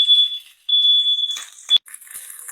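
A kitchen smoke alarm beeps while white snapper with coconut rice and asparagus is cooked on a hot pan, two long piercing tones close by, broken up by brief clattering and sizzling.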